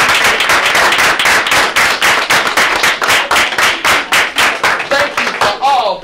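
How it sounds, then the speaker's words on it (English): A small group claps in quick, steady rhythm for a teacher, the claps close and loud, ending with a few voices. "Give her a round of applause."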